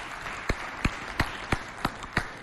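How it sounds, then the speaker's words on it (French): An audience at a FestAfrica school show claps in an even, rhythmic beat: about seven sharp, distinct claps roughly a third of a second apart over a light background hiss. "rien que pour ça, on doit encore applaudir vraiment"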